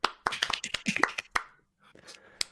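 Rapid series of sharp hand claps, loud and close, clustered in quick bursts then trailing off with a few sparse claps, heard alone without speech.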